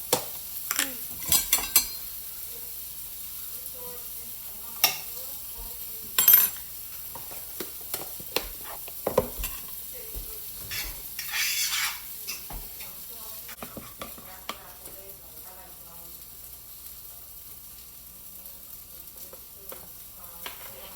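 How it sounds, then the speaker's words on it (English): Wheat pancakes cooking in butter in a pan, a quiet sizzle under scattered clinks and scrapes of a utensil against the pan, with a few sharper knocks early on and no talking. "now I can go ahead and start putting my pancakes in the pot"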